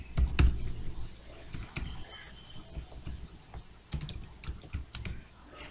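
Keys clack in irregular bursts on a computer keyboard while Hindi text is typed, close and moderately loud, with brief pauses between runs of keystrokes and no talking.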